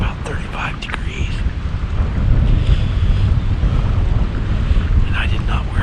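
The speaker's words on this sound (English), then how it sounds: "the wind's howling." Strong, howling wind roars and buffets the microphone outdoors on a cold Pennsylvania late afternoon during a rifle deer hunt, a loud, continuous rushing that swells and eases throughout.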